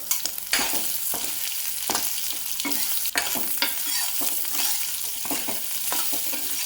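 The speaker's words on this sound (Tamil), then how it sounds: "இப்போ இதோட தேங்காய் போட்டுடலாம். நேற்றாக வதக்கினா போதுங்க. புளியையும் போட்டுடலாம்." Grated coconut and tamarind sautéed in a pan, a spoon scraping and stirring in repeated strokes over a continuous sizzle; close, busy and fairly loud, with no speech.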